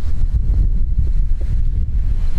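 Loud, blustery wind gusting over 70 kilometres an hour buffets the microphone in heavy rumbling gusts, continuous and close with no pauses.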